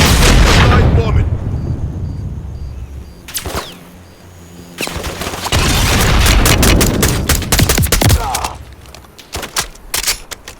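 Night bombing in Modern Warfare III: loud booming explosions and bursts of gunfire come in waves, with heavy blasts at the start and again midway, followed by scattered sharp shots, and voices heard among the combat.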